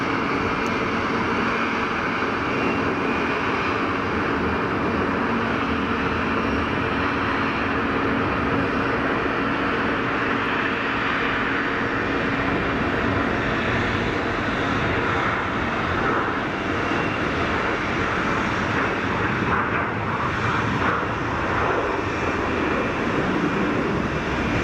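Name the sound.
Air Algérie airliner taking off at Geneva Airport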